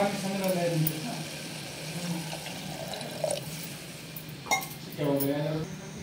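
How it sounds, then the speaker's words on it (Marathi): Water is poured into a pressure cooker of mixed moth beans. Short splashing bursts of liquid sound among light clinks of metal utensils, with a person talking over much of it. "तर आता हे मिसळून घेतले, पाणी टाकते."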